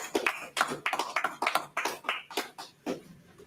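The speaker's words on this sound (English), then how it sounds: "clap it up" A class audience at a law class claps, a handful of distinct, fairly close hand claps in an uneven burst that thins toward the end.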